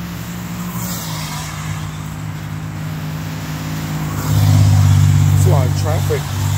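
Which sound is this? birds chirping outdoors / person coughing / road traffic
road traffic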